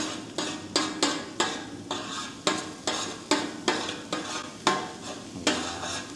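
Green pepper fries in a paella pan, a continuous sizzle punctuated by regular scraping strokes of a utensil against the pan roughly every half second, close and fairly loud, with no talking.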